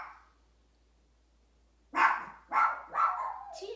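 A dog barks nearby during an indoor yoga session, giving four loud, sharp barks in quick succession after a few quiet seconds.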